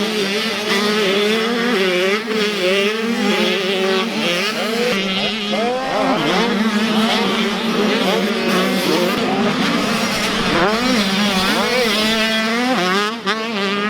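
A dirt bike engine revs and shifts continuously while riding around a Texas race track, its pitch rising and falling through gears, loud and close for the whole stretch.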